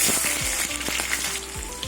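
Whole cumin seeds, dried red chilies, asafoetida and onion crackle in hot oil, a short burst of sizzling with a few sharp pops and clinks of a utensil near the pan.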